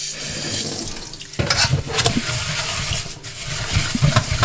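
Running tap water pours steadily into a sink as a burnt pan is washed with ordinary soap, a loud close rush that grows fuller partway through, with light clatter and scrubbing knocks and no talking.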